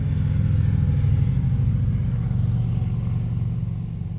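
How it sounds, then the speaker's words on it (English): A motorcycle passes on a quiet rural road in the Missouri Ozarks, its engine a steady low rumble that stays loud throughout, then eases slightly as it moves away at the end. "You can hear a motorcycle going by."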